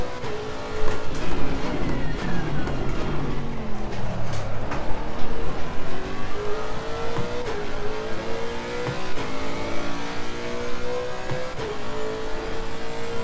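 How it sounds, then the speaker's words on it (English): A race car engine in the racing game Assetto Corsa Competizione roars loud and close without pause, climbing and falling in pitch through repeated revs and gear changes, with faint tire noise underneath. "It has got a lovely sound, this engine."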